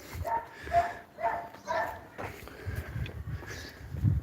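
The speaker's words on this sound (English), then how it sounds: "The dogs agree with me." Dogs bark and yip in short bursts, several barks in the first two seconds, then softer whimpering and low noises, fairly close.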